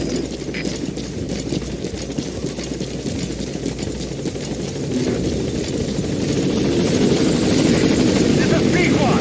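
The B-Quad support helicopter in Metal Gear Solid V thumps steadily as it approaches, its rotor drone growing louder toward the end, with radio voice chatter over it.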